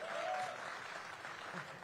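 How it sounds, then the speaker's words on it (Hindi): A short burst of audience applause at a literature festival session, steady, fairly soft clapping from a crowd with a faint voice at the start. "तालियां हो जाए भाई।"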